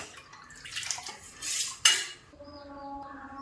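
A metal pot of ragi drink set down on a stove, with soft scraping and light clinks, then a sharp metallic clank and a faint ringing afterward; no talk.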